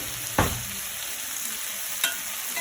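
Vegetables for pepper steak sizzle steadily in a hot pan, with two brief scraping stirs of a utensil cutting through the constant frying hiss.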